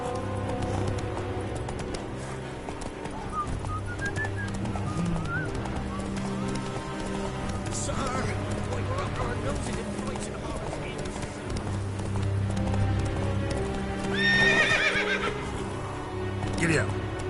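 A horse gallops with rhythmic clip-clop hoofbeats and lets out neighs and whinnies in The Witcher 3, loud and continuous, with a voice talking over the hoofbeats at times.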